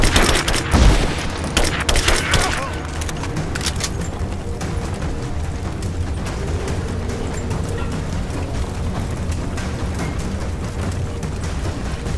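Gunfire in a firefight in the video game Rise of the Tomb Raider: dense, loud bursts of shots and impacts at the start, easing into a continuous rumbling barrage.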